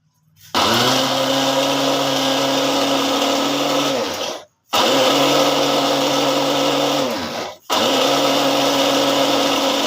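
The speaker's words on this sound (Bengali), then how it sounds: "এখন আমি টমেটোগুলোকে ব্লেন্ডার করব।" Electric blender pureeing tomatoes for pizza sauce, a loud steady motor whir running in three long bursts separated by brief stops, close up with no talking.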